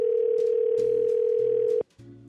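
A telephone dial tone on a call-in line holds steady and loud, then cuts off and gives way to a lower buzzing line tone with faint clicks.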